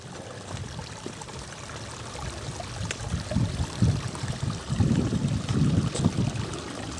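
Small mountain streams on a hike up the Puy de Sancy run close by, a continuous broadband rush and trickle that grows louder and busier toward the end, with some wind in the background.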